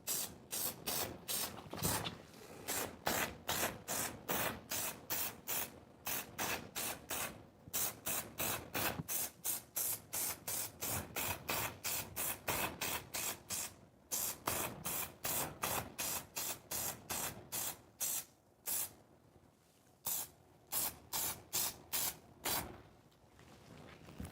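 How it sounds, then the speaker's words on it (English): Rapid bursts of spray adhesive hiss onto fabric in quick succession, each short blast followed by a brief pause, steady and close, with no talking. "don't spray on the foam, just spray on the fabric"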